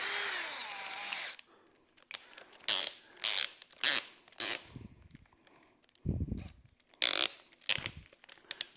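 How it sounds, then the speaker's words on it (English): A power drill with a 1-inch hole saw cuts into a fridge, whirring in several short, loud bursts with pauses between, the bit grinding; a long continuous run opens the sequence. "drill a hole in the fridge. Found a drill. Found a hole saw."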